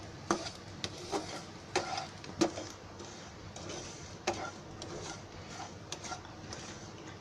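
Semolina roasts in a pan while a spoon stirs it, sounding as a quiet dry rustle broken by irregular sharp clicks and taps of the utensil against the pan.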